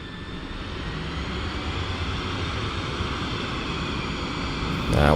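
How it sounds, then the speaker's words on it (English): F-16 jet in the DCS flight simulator spooling up, a steady roaring engine whine with faint tonal lines that holds level, then swells louder at the very end. "And we are back in the good old Pakistani F-16. Let's start her up."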